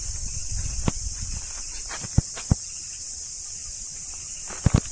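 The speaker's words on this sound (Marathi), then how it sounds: "तर थोड्या वेळात आहे ना रातकिड्यांचा आवाज होतो." Crickets in a Konkan village keep up a steady, high-pitched drone throughout, with a few scattered soft knocks and footstep-like thuds close by.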